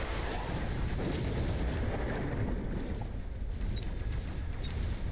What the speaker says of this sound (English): Nope, missile strike.